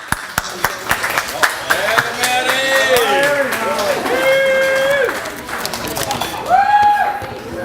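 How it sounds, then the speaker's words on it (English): Guests at a speech gathering give Matt a round of applause, with sharp scattered claps at first, then a fuller burst of clapping under loud whoops, cheers and excited voices that rise again near the end. "Let's all give a round of applause for Matt."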